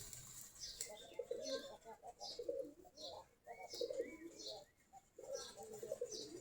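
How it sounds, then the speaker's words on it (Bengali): Desi giribaz pigeons coo softly and repeatedly in a loft holding dozens of pairs, with faint chirps between the low rolling calls. "আমাদের প্রায় 40 থেকে 45 জোড়া এখন কবুতর আছে"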